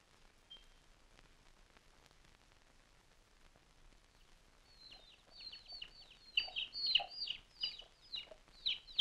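Chickens and a rooster cluck in a quiet setting, starting faint and sparse, then rising into a louder, busier run of clucks over the last few seconds, with no talk.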